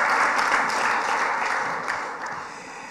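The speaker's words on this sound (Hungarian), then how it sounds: "tapsoljuk meg a szülőket, hogy van nekik kis gyerekük" A church congregation applauds during a sermon, a dense wash of many hands clapping that stays steady and loud before easing slightly toward the end.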